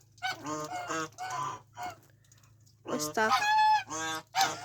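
Several ducks honk and quack loudly in short nasal bursts nearby, with a brief spoken phrase and a quiet pause between the calls.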